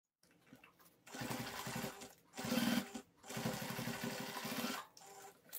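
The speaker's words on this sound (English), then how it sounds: "Go to the sewing machine and sew it with a 3/8." A sewing machine runs in several bursts of rapid stitching, each lasting a second or two, separated by short pauses.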